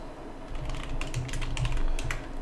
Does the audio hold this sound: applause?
no